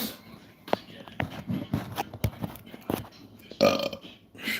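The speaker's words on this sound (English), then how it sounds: "I'll get the belches." A man lets out a loud burp while sipping coffee during a live stream, the belch standing out near the end among scattered shuffling and faint background noise.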